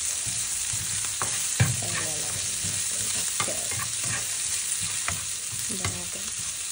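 Carrots sauté in a hot pan under a constant hiss of frying, broken by frequent scraping stirs and light metallic taps of the utensil.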